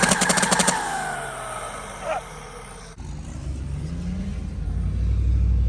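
A rowdy second-generation truck engine rumbles close by, opening with rapid loud exhaust pops and then settling into a deep roaring idle that swells toward the end.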